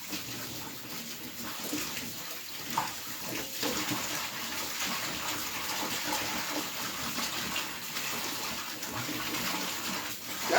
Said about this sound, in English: That's how I wash my okra and stuff off. I shake it around like it's a wash machine.